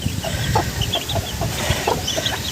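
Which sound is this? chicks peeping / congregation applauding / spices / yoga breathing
chicks peeping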